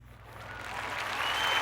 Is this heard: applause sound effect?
yes